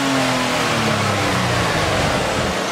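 A 2010 Nissan Maxima engine after a tune-up, roaring loudly and close with a broad, rough sound as the revs rise and hold.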